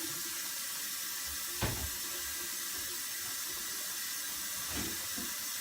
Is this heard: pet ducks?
no